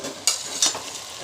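Pieces of pumpkin and potato hit a hot pan where meat has just been fried, giving two sharp bursts of sizzle over a steady close hiss and a light stir, with no speech.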